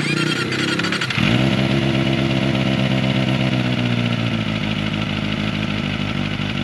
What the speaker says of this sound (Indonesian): Kita tes suara Akrapovic yang ini guys ya.